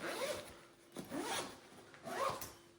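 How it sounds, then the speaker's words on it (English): A backpack zipper being pulled closed in three quick, close, rasping strokes, each a short whirring zip with small pauses between. "And there we go, it zips right up."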